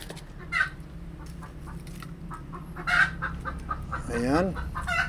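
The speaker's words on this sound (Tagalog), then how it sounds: "Ang ingay ng manok guys, naghahanap siya ng pag-iitlogan niya." Hen clucking noisily while searching for a place to lay eggs: scattered short clucks and a rising, wavering cackle, moderately close over a low background hum.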